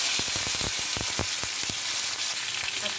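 Taro and potato pieces sizzle and crackle in hot oil in a kadai, a steady dense frying hiss with scattered pops, close and loud, with no talking.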